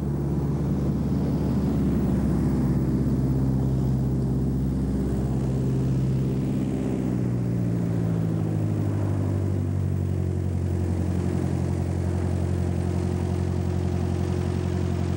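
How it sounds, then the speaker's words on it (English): Small plane revving up and taking off down a runway, a loud steady engine drone rising in pitch and building in power under heavy wind buffeting, with no talk. "boys are at the top of the runway now, getting ready to put the plane into high gear"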